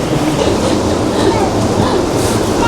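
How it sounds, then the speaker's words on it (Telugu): Steady rumbling train noise inside a carriage in Las Vegas, with a continuous low drone and faint clatter, voices murmuring in the background. "so train ఎక్కేస్తున్నాము"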